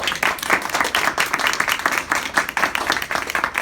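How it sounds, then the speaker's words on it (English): Sustained audience applause at a Toshiba regional award ceremony, a dense, steady wash of many hands clapping at once, loud and close throughout with no break. "I want to give them a round of applause"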